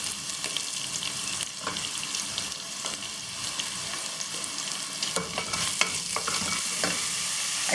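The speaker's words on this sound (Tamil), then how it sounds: "மஷ்ரூமை போட்டு அடுத்து லைட்டாக வதக்கிக்கங்க" Mushrooms sauté lightly in a pan with curry leaves, giving a continuous close sizzle broken by repeated spatula stirs and scrapes, getting slightly louder near the end, with no talking.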